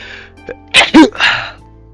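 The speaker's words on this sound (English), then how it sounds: "I need to sneeze" A single sharp sneeze erupts from a person suffering hay fever, with a brief inhale before the loud burst and a trailing exhale, close and clear against a quiet room.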